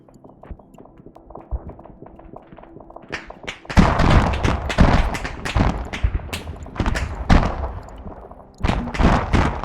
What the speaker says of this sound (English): Ooh, that's the artillery.